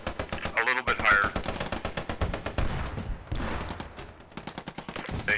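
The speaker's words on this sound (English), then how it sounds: "he has an MG34, I think." An MG34 machine gun fires in a video game set at the Battle of Arnhem, with rapid sustained bursts of close gunfire in an even rhythm and short pauses between bursts.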